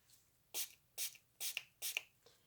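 Makeup setting spray misted over an eyeshadow palette in four quick, evenly spaced spritzes, then a fainter fifth puff. The hisses are close and soft, with no talking.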